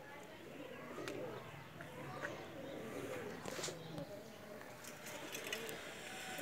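A pair of Pakistani teddy pigeons coo softly amid a busy background of other birds, while someone talks over the calls throughout.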